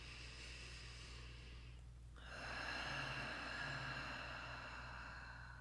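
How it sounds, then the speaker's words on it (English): A slow breath drawn in through the nose during a guided meditation, a soft hiss that swells about midway and holds steady over a constant low hum. "Breathing in through the nose."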